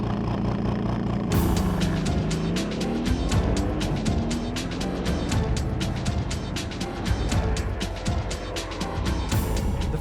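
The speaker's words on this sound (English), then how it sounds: "The first thing you appreciate when you're cruising along in comfort mode is that glorious V8 rumble" A 2015 Mercedes-AMG GT with a V8 engine rumbles steadily while cruising in comfort mode, a loud, continuous low drone with rapid ticking and crackling over it throughout.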